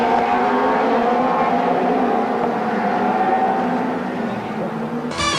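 1995 ITC touring race cars battling at Donington Park, engines droning at high revs through Goddard's corner with a sustained whine that shifts in pitch, then a brief sharp burst near the end; faint commentary may sit beneath.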